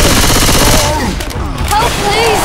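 Gunfire at the Tank in Left 4 Dead 2: a dense, loud burst of rapid shots fills the first second, then eases into a busier mix of game noise with fainter shots and a voice calling out.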